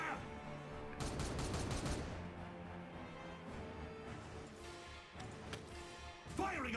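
Gunfire from the Warhammer 40k Regicide video game, clustered bursts of shots over continuous battle noise, fairly faint overall, with a voice speaking near the end.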